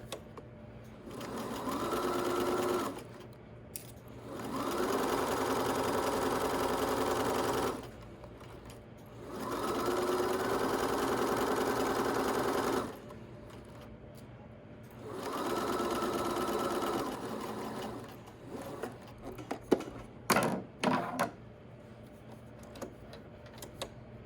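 Sewing machine stitching the seams of a centered zipper bag, running in four steady bursts of several seconds each with short pauses to pivot at the corners, then a few quick back-stitch taps near the end.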